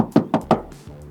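Three distinct dull knocks on body filler over a project car's panel, in an even rhythm, close up, followed by a softer thud; a solid, muffled tapping rather than a ringing one.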